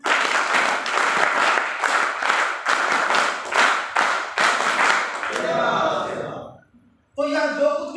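A large indoor audience at a seminar claps and applauds loudly, with a rhythmic, unified signature clap pattern for about five seconds that then fades out, followed by a brief burst of sound at the end.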